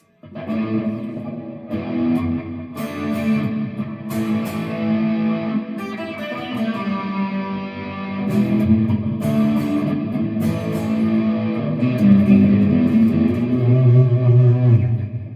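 A Fender Stratocaster electric guitar played through heavy distortion, with sustained overdriven chords and riffs that grow louder and denser toward the end, alone with no talking.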